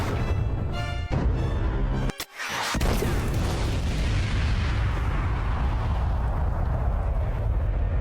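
A loud explosion bursts close by in a dramatic fantasy scene, a sharp boom cutting through a dense roar, followed by a sustained rumbling wash of debris and noise that slowly fades.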